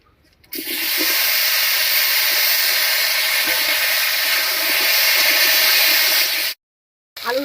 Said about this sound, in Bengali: ফোড়নটা ভাজা হয়ে গেছে এবার কেটে রাখা আলু দেবো